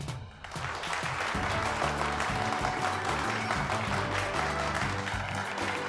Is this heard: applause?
yes